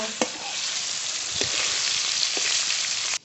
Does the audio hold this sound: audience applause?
no